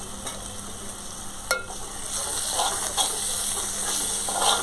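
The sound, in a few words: sautéing red masala with onion and tomato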